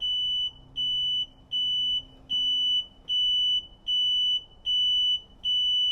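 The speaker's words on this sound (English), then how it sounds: "I've never had it beep like that before." Work equipment beeps after start-up during truck and equipment maintenance: a loud, high-pitched electronic tone repeats about eight times in an even rhythm, each beep lasting roughly half a second with short gaps between.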